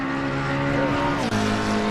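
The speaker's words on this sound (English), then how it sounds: "It's screaming, that little McLaren engine." A small McLaren race car engine screams at peak RPM on the Mount Panorama circuit during an endurance race, a loud, steady, high-pitched whine that drops briefly in pitch midway before climbing again.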